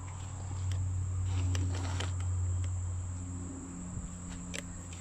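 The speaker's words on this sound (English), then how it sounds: "A lot of bees." Honeybees from a log hive being rehoused, giving a steady low buzzing hum close by that swells and eases, with faint taps and handling noises scattered on top.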